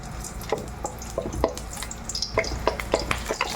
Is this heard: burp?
no